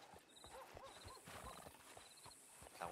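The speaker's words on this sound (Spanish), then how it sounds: "Acabo de domar un caballo." Hooves clip-clopping in a steady gait with a few whinnies from a tamed horse in a ranch roleplay video game, moderately loud with faint voices in the background.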